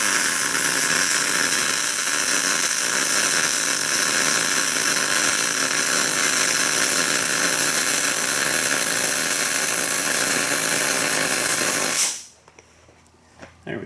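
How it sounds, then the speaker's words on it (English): Welding on metal racks gives a loud, steady crackling hiss that runs without a break for about twelve seconds, then cuts off abruptly into near quiet. "I hope this is staying in focus when I'm welding here."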